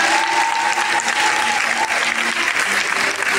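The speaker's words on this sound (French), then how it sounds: "Est-ce que Dieu ne mérite pas des acclamations?" Dense, steady applause from a church audience at a worship gathering, with a few cheers and voices mixed in, loud and continuous throughout.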